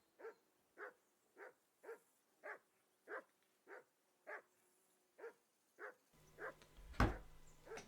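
A dog barking in Kingdom Come Deliverance 2, about a dozen evenly spaced, moderately distant barks in a steady rhythm, joined near the end by a louder thump and background rumble.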